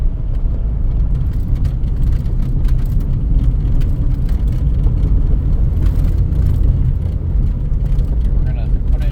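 A one-owner 1984 Dodge Mini RAM truck, parked for 25 years, drives along in second gear, its engine a steady, loud, close rumble with road noise, while people talk over it.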